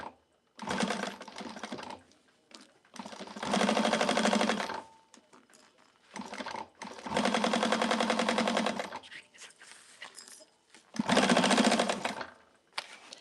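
A home sewing machine bastes the layers of a quilted bag together, running in three long bursts of steady, rapid stitching close by, with short pauses between them.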